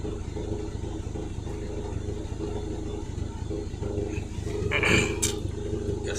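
A Renault Megane 2 engine idles with a misfire, a low uneven rumble that swells briefly near the end, with no voices.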